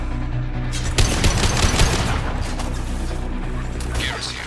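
Heavy gunfire in the video game Mass Effect 2, with dense overlapping rapid shots and impacts clustered around the first two seconds and continuing more sparsely after, loud and close, with faint voices beneath.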